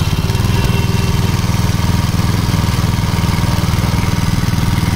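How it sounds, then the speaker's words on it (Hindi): A Green Planet 7 HP petrol engine runs steadily nearby with a fast, even chugging pulse at a low, settled speed, and no voices over it. "7 HP पेट्रोल से चलने वाला इंजन"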